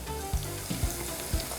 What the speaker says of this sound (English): the onion and wait for it to sizzle a bit